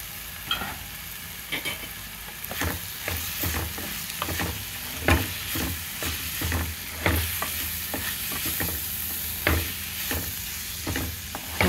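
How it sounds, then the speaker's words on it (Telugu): Amaranth leaves (thotakura) fry with chilli powder in a pan on low flame, a steady soft sizzle punctuated by frequent spatula scrapes and taps, close and without voices. "ఇప్పుడే కారం వేసాం కదా, కొంచెం పచ్చివాసన పోయే వరకు సిమ్లో పెట్టి వేయించుకున్నామండి"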